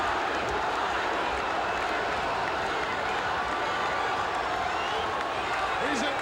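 A large wrestling arena crowd at a WWE event roars and chants for Roddy Piper, a dense continuous wall of voices filling the hall for several seconds, with no single speaker standing out.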